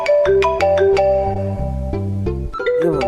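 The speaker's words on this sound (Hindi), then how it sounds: "फोन भी इतना दूर पड़ा हुआ है, मुझसे तो उठा भी नहीं जा रहा। कोई फोन देगा मुझे?" A phone ringtone plays a loud, bright melodic pattern of repeated tones, close and alone, over about three seconds.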